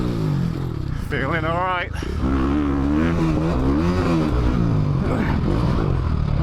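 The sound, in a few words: motorcycle engine revving, Chinese bike racing on track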